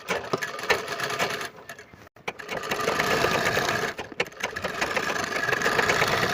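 Sewing machine running in steady bursts as it double-stitches along the edge of a sherwani, a continuous close whirring rhythm with two short pauses.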